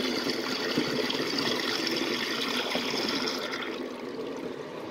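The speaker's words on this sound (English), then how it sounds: "here's a last flush" A miniature 1994 Kohler Highcliff toilet flushes with a rushing swirl of water that fades into a softer trickle and gurgle over a few seconds, with no talking.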